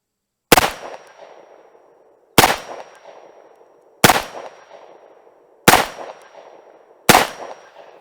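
Five loud, sharp rifle shots from a Tommybuilt T7 at an outdoor range, evenly spaced about a second and a half apart, each with a short echoing tail.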